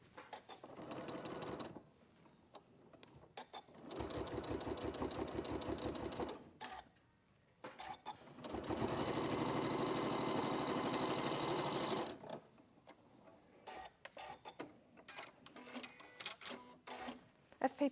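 A sewing machine stitches foundation paper piecing in bursts of steady, rapid needle clatter, with loud runs separated by pauses where faint talk and handling sounds are heard.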